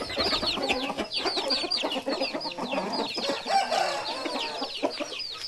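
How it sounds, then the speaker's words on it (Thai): A flock of young chickens, growing cockerels, clucks and chirps busily at close range, dense overlapping calls with no voices. "นี่ลูกไก่ โตขึ้นมาแล้วนะครับ"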